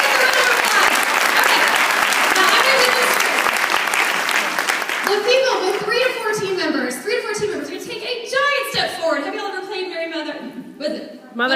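A crowd at a career presentation breaks into loud, dense applause, which thins after about five seconds as talk and a few chuckles take over amid scattered claps.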